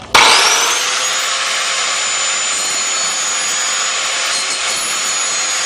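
A harsh, steady grinding whine starts abruptly and holds at an even, loud level throughout, as a Briggs and Stratton lawn mower blade's cutting edge is pressed against a spinning grinder.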